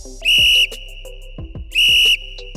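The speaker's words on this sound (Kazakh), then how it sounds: "Ысқырғыш." Two loud, shrill blasts of a whistle, each lasting about half a second, are heard over a rhythmic background beat.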